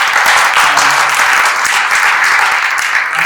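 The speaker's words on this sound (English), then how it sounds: "That's another round of applause" Loud, dense applause from an audience at the Newark Public Library, a continuous wash of many clapping hands with no pauses.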